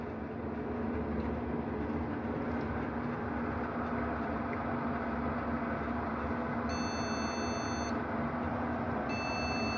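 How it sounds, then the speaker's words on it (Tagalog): A Gigabyte GA-H110M-DS2 LGA1151 motherboard fails to boot, sounding short electronic beep codes in two bursts near the end over a steady fan and background hum. "nagbi-beep kahit may memory"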